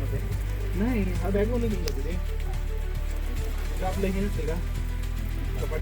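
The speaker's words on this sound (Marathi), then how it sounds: "पाऊस का जात नाही आहे पाऊस वाढतच चालला" Heavy monsoon rain falls at Rajgad fort, a dense steady hiss of drops beating on surfaces throughout, with voices talking over it.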